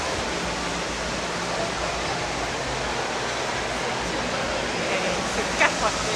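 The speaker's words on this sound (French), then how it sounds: "La fontaine ici." A large indoor fountain in a hotel lobby gives off a steady, dense rush of falling water that fills the space evenly, with faint voices briefly audible near the end.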